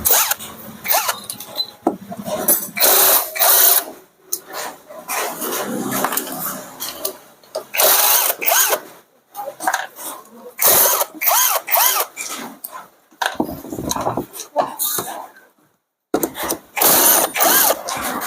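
Impact wrench removing bolts from a Mitsubishi C10 engine during a teardown in a workshop: repeated loud, short rattling bursts separated by brief pauses, close by.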